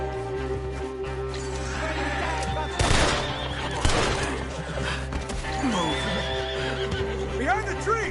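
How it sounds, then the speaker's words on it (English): Loud horse whinnies and neighs from Red Dead Redemption 2 rise out of a chaotic game scene, mixed with crashes, hoofbeats and background score, with shouted voices nearby. "The horses! Up ahead!"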